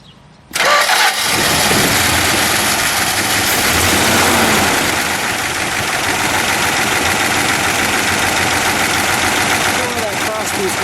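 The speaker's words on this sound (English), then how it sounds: "let's fire it up, because when we fire it up, we're going to see that twist" A black 1964 Chrysler 300K coupe V8 cranks and catches, then settles into a loud, steady rumbling idle close by, with voices over it.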